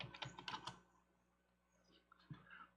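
Someone types on a computer keyboard in a quiet room: a quick cluster of close, crisp key clicks, a pause, then a few more scattered taps, all faint.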